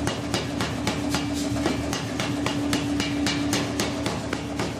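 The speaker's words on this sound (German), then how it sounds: "sobald sie glühen, verbindet der Schmied die Schichten mit Hammerschlägen" Steady, rhythmic hammer blows ring out on glowing steel layers as a smith forges a Damascus billet for a knife, about three strikes per second, over a constant low mechanical hum.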